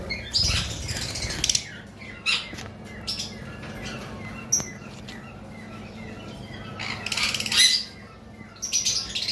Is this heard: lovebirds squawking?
yes